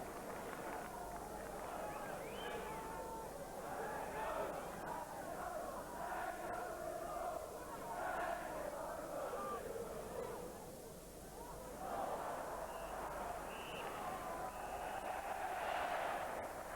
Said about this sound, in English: So, sustained applause from the crowd